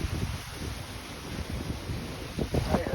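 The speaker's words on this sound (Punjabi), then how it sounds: "ਲਓ ਜੀ ਬਾਰਿਸ਼ ਹੋ ਗਈ ਹੈ ਸ਼ੁਰੂ ਚੰਗੀ ਬਾਰਿਸ਼ ਆ ਗਈ" Heavy rain driven by wind outdoors on a farm, a dense rushing roar with gusty buffeting against the microphone throughout, no voices.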